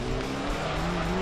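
A racing car in a retro driving game oversteering, with a steady engine drone and sustained tire squeal as the tail slides, loud and continuous through the short moment.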